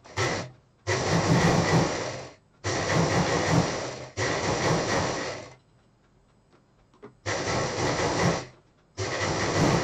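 A sewing machine runs a straight seam along a folded 4-inch strip of synthetic fabric, motor whirring loud and close in several long bursts with short pauses between.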